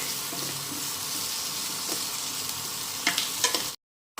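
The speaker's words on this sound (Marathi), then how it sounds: "कांदा परतला आहे" Chopped onion is stirred and sautéed in a pan for a green peas masala, a steady hissing sizzle with a few louder scraping stirs near the end before the sound cuts off abruptly.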